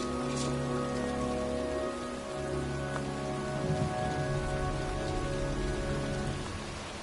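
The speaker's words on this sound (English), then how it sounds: "It's cold. It's raining." Video game rain pours down continuously with a dense hiss of drops, layered over low sustained ambient tones, no voices.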